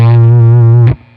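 Electric guitar solo phrase without chromatic passing notes, a sustained distorted tone with rich harmonics holding steady for almost a second before cutting off abruptly.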